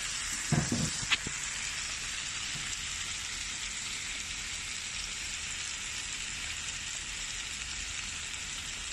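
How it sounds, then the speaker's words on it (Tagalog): Frozen food, bought packaged in plastic, sautéing in a pan before tomato paste goes in, giving a steady, even sizzle throughout with a couple of brief clatters near the start and no talking. "Gisa lang natin siya."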